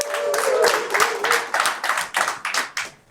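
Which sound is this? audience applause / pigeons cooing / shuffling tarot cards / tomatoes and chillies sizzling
audience applause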